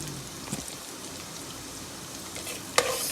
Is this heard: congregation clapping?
no